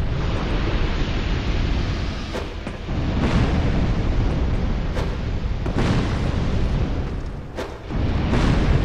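Fire bomb explosions in Dark Souls II, a dense roaring burst sound with several sharp cracks spaced a second or two apart over a continuous loud rumbling backdrop.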